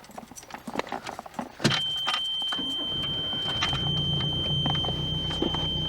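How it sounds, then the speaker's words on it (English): A carbureted car engine is started: a few clicks and brief cranking sounds, then the engine catches with a sudden jump into a steady, close idle rumble, with a thin constant whine above it. "Now I gotta start this car up, and since it's a carburetor engine,"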